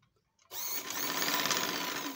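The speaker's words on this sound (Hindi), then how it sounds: "ये आसन की सिलाई लगा रही हूँ।" An electric sewing machine stitches elastic on a pair of capri trousers, starting abruptly after brief quiet and then running as a steady, close, rapid whirring hum.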